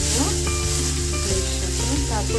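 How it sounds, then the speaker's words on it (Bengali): Raw rice being fried with cumin in a pan for jeera rice sizzles loudly and evenly, with stirring scrapes, under background music. "চালটা একটু ভাজা ভাজা করবো,"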